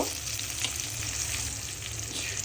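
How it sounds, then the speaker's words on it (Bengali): Chopped onion and green chili frying in hot oil, a steady, even sizzle with a soft crackle, close and constant throughout with no voices. "তেল গরম হয়েছে দিয়ে দিব পেঁয়াজ কুচি খালি করে রাখা কাঁচামরিচ দিয়ে দিব"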